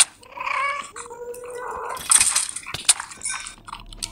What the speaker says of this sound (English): Oh my god, I hear a ghast.